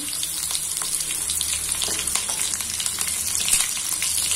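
Mustard seeds, cumin and chili powder sizzle in hot oil, a dense, continuous frying hiss with fine spattering crackles, fairly loud and close, with no voice over it.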